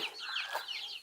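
Hens cluck in a home chicken coop holding about fifteen birds, chicks among them, a dense overlapping chorus of close clucks and squawks filling the whole second with no talk.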